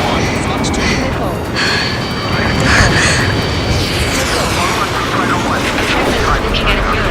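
A missile launches from a fighter jet in the combat flight game Ace Combat 7, a steady roar of dense, rumbling combat noise with cracks and booms throughout, and voices talking over it.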